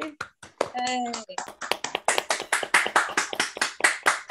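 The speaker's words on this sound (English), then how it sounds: "Everyone wants to unmute and clap." Participants on a video call clap at once, producing a quick, uneven patter of light hand claps, with a short cheering voice near the start.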